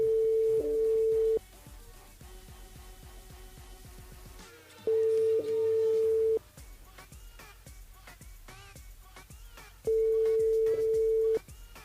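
Telephone ringback tone heard in three long steady beeps separated by pauses, the call going unanswered, with quiet background music playing between the rings.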